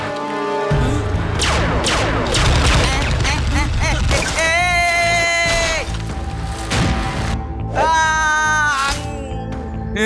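Rapid bursts of gunfire and crashing impacts in a staged film-shoot action scene, dense and loud, mixed with music and ringing tonal effects.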